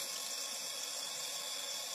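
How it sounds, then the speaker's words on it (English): Tap water runs steadily as a makeup brush is rinsed beneath it, a continuous close hiss of flowing water splashing over bristles at a sink, no voices. "And then I re-rinse with water."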